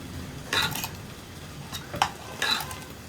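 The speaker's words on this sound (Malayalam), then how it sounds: "ഇടയ്ക്കിടയ്ക്ക് ഓരോ മിനിറ്റ് കൂടുമ്പോൾ ഞാൻ ഇളക്കി കൊടുക്കുന്നുണ്ട് കേട്ടോ" A utensil scrapes and clinks against a pot of simmering ivy gourd in a few brief, separate strokes, close by over a quiet background.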